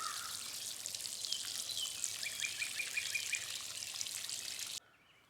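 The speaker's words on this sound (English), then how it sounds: "I'll come out here every other day or so for a while and water them like this." Raspberry plants being watered by hand in a garden, a steady light spray and patter of water on foliage and soil for several seconds, fairly faint, then stopping abruptly near the end.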